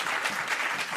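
A church congregation claps steadily and loudly together, a dense, even round of applause filling the space with no break.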